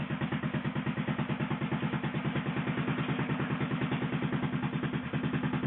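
An 1888 Benz Patent Motorwagen replica's single-cylinder engine chugging at a steady, even rhythm close by, a regular mechanical pulse with light clatter and no voices.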